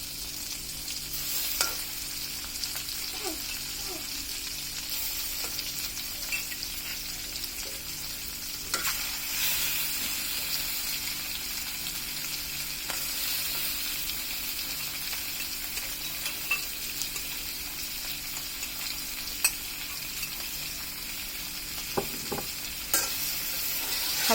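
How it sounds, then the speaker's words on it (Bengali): Prawns for chingri bhuna fry together in a wok, a continuous close sizzle broken by scraping and clinking as a spatula gently stirs and turns them, with no one talking. "সবগুলো চিংড়ি আমরা একত্রে হালকা করে ভেজে নেব।"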